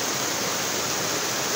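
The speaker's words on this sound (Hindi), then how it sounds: "ये जी एक और पानी का चश्मा है" Water from a natural mountain spring flows in a steady, continuous wash of rushing sound. It stays even and moderately loud throughout, with no voices.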